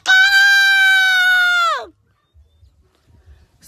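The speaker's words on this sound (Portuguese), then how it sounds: "Deu uma despertada do galo logo da vez." A rooster crows once, a loud, close, sustained cry of almost two seconds that drops in pitch at the end, followed by quiet background with faint low noises.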